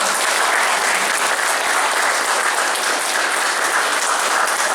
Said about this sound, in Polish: Brawa, proszę Państwa.